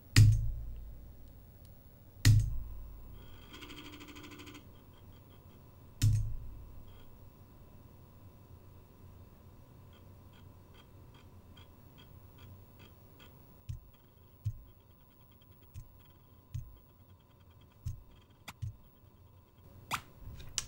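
An emulated Apple II writes to a floppy disk drive, giving a few loud clunks early on, then a long stretch of faint steady whirring with light rhythmic ticks and clicks toward the end, with no voices.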